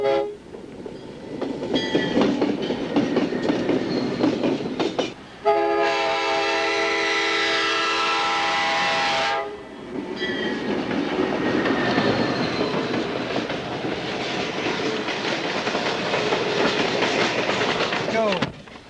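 An Amtrak special passenger train passes at Corning, New York, on the former Erie Railroad line, its horn blaring in a long sustained blast between rumbling, clattering wheels and engine noise, close and loud.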